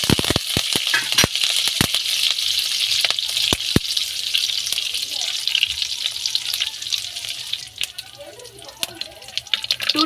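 Curry leaves and cumin frying in hot oil in a kadai, a steady bright sizzle filling the whole stretch, with sharp crackles and pops from the leaves throughout; soft speech-like sounds appear faintly toward the end.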